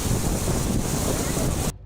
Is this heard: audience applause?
no